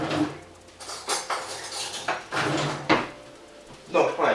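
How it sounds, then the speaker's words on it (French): Kraft Dinner noodles tipped from a pot into a small bowl give a few clattering knocks and scrapes of dishware and utensil clinks at close range, in short irregular bursts with quiet gaps between them. "on va vider nos nouilles dedans"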